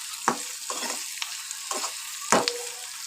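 Onions sizzle in hot oil in a pan with no tempering spices, with soft steady frying and a few louder bursts as they are stirred, close by and without talk.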